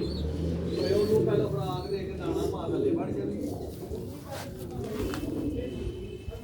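Sialkoti black-faced pigeons coo softly in repeated low phrases among faint chirps, with someone talking over them close by.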